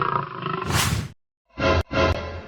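A lion roars in a fight with a wolf, a loud close roar followed by two short, forceful bursts after a brief gap.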